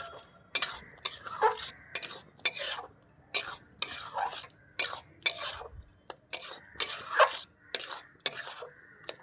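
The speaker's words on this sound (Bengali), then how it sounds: "এবার অনবরত এইভাবে একটু নাড়িয়ে চাড়িয়ে ডোতে পরিণত করে নেব" Semolina being stirred continuously into a dough in a pan over a low gas flame, with repeated scraping and stirring strokes in irregular bursts, close and fairly loud, and no talking.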